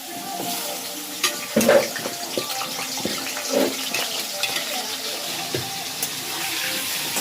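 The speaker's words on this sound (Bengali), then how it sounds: "এবার তেলটা গরম হয়ে গেছে, আলুটা ছেড়ে দেবো।" Cut potatoes are dropped into hot oil for a chicken masala and start frying, with a close sizzle broken by sharp crackles and spits and a few clinks of utensils.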